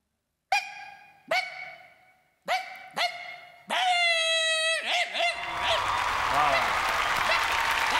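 A voice artist on a comedy show imitates the cry of a newborn puppy, giving several short high yelps and then a longer wavering whine that is drowned out by loud audience applause.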